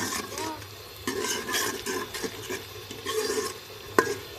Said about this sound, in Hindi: अब ना मैं इसको तब तक भूनूंगी जब तक ये मसाला और ये घी ना अलहदा ना हो जाए